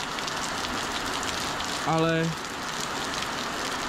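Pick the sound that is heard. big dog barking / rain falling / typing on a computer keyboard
rain falling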